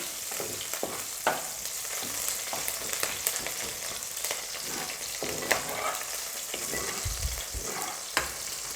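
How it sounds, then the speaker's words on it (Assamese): Cumin seeds fry in hot oil while being stirred, a continuous close sizzle punctuated by sharp clinks and scrapes of a spoon against the pan, with no voices. "জিৰা গুটি কেইটামান লৈছিলোঁ, তাত এতিয়া মই দি দিছোঁ। এতিয়া মই অকণমান লৰাই দিছোঁ।"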